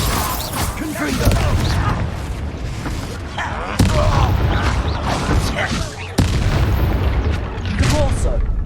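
Explosive blasts from the Confringo spell in the wizarding game Hogwarts Legacy, loud booming bursts with sharp onsets near 4 and 6 seconds amid continuous battle noise and game voices throughout.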